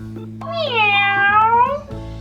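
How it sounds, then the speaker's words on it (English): A single drawn-out cat meow, close and clear, rising then falling over about a second and a half, with low background hum underneath. "Did you hear that, assistant? A cat."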